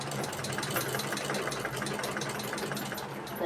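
A sewing machine stitches a high neck collar in a steady, continuous mechanical whir, close and fairly loud, running without pause.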